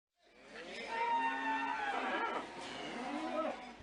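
Cattle at the Prambanan livestock market in Klaten give a long, drawn-out moo that swells and then trails off, fairly close and heard on its own.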